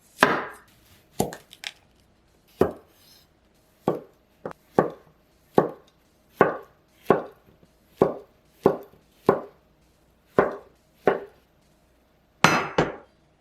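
A knife chopping a zucchini on a cutting board, about twenty crisp, separate thunks at an uneven but steady pace, close and clear, with no talking.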